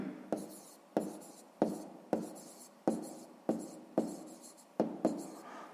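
Someone writes out the answer to a sixth-grade math exercise, about nine sharp scratching strokes in a steady rhythm, close and clear with no talking.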